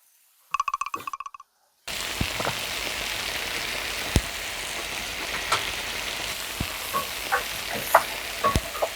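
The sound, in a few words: stir-frying dakgalbi (spicy chicken) in a pan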